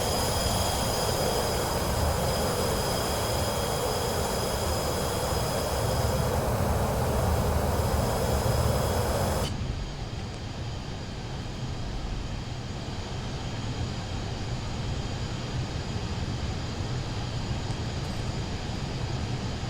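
A Pilatus PC-24 business jet in flight in the MSFS 2024 flight simulator, a steady engine roar and airflow hiss that continues unbroken, shifting partway through to a duller, darker tone, with no talk.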